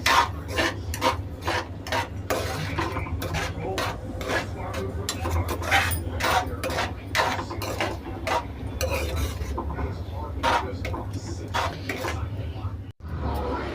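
A spoon stirring sugar into carrot kheer in a pot makes repeated, rhythmic scraping strokes against the metal, close and steady throughout.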